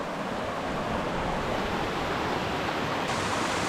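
Meltwater dripping hard off big chunks of glacier ice sitting in the open, heard as a dense, steady wash of water noise without individual drops standing out, no voices.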